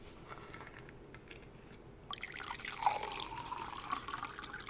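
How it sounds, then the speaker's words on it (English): A beer pouring sound effect played from a soundboard to set a pub atmosphere, a steady liquid rush that starts abruptly partway through and runs on, fairly loud and without talk. "I think there's the beer pouring."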